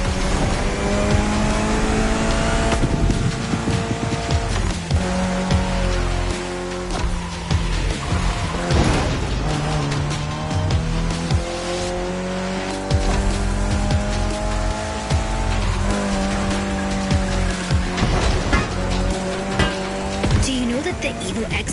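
A Mitsubishi Evo X runs a lap in the racing game The Crew Motorfest, its engine revving and shifting through gears with tire squeals throughout, while a voice talks over the game sound.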